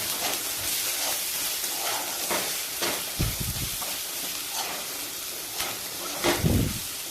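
Ground spices including coriander powder and turmeric sizzling in hot oil for ridge gourd curry, a steady close hiss with occasional stirring scrapes and knocks.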